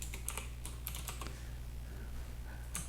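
Quick bursts of typing on a computer keyboard, crisp clustered keystrokes close up in short runs with a pause in the middle, over a steady low hum and no talking.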